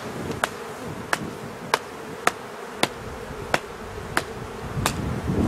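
A hand taps repeatedly to shake bees off a beehive frame during a spring hive inspection, producing about nine sharp, evenly spaced knocks over a soft, continuous buzz of bees.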